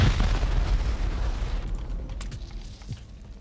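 A rocket blasts a base wall during a solo raid in a survival video game, a loud, heavy boom that hits at once and then rumbles and fades over a few seconds, with small debris crackles.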